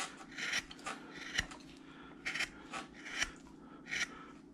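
A knife carving a wooden figure makes a series of short, quiet rasping strokes in uneven bursts over a low steady hum, with no one talking.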